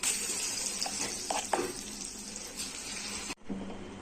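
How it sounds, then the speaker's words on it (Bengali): Chhola dal sizzles and stirs in a hot kadai, a steady broadband frying hiss with scraping clatters midway, cutting off abruptly near the end before a quieter hiss resumes. "ডালটা আমি কড়াই দিয়ে দেবো"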